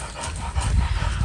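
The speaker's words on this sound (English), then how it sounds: "I have my 4 dogs outside with me" Several dogs outdoors pant in quick, rhythmic breaths close by, with a few soft low thumps mixed in and no talking.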